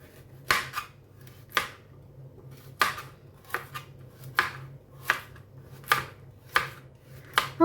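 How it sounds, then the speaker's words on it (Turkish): Knife chopping carrots on a board: about a dozen sharp, crisp chops at an uneven steady pace, close up, with a low hum in the background. "Havuçlarımı şöyle doğradıktan sonra kenara alıyorum."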